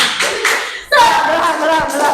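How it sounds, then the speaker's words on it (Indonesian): A class of children performs a 'tepuk semangat' clapping cheer before closing prayer: a few sharp close claps, then a burst of chanting voices over continued clapping. "Sebelumnya kita mau tepuk semangat dulu deh."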